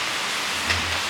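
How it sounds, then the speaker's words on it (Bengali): Rain falls steadily over Siliguri under a stormy sky, making a dense, even hiss with no break across the brief moment. "বৃষ্টি হচ্ছে, আকাশের অবস্থা খুবই খারাপ।"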